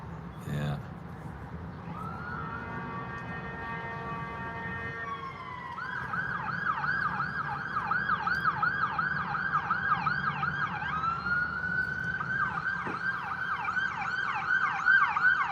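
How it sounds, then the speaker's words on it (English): Ambulance siren passing by outside a gym, a wailing tone that shifts into a fast warbling yelp, growing louder and nearer over the span with traffic rumble underneath. "The ambulance is always at the gym resuscitating somebody or putting somebody on a stretcher"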